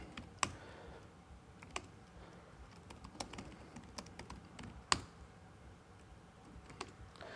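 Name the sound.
typing terminal commands on a computer keyboard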